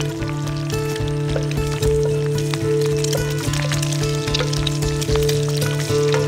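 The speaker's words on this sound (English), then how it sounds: "Looks like it's gonna take long to cook eggs today" Eggs fry in a pan at a hunting camp, a steady close sizzle and crackle with scattered pops running throughout, over a constant low hum.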